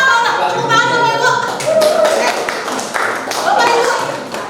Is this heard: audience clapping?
yes